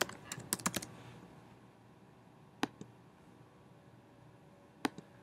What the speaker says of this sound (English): this is where I'm going to try to type in front of people and not be successful